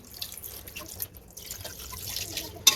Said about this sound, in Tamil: இப்போ கறி வேகிறதுக்கு தேவையான தண்ணி சேர்த்துப்போம்